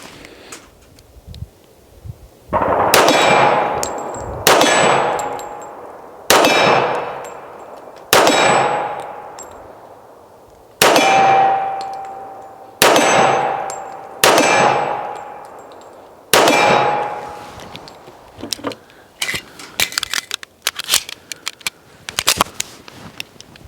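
Pistol rounds from a Remington 1911 strike steel targets on an outdoor range, producing about eight loud ringing clangs at steady intervals, each decaying slowly, followed by a burst of quicker, fainter metallic pings.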